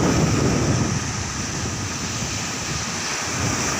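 Continuous roaring rush of strong sea waves, driven by the northeast monsoon wind, mixed with wind buffeting, loud and steady throughout without any talking.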